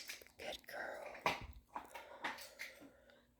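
A female dog whimpers and whines in short, close bursts, interleaved with a person talking nearby.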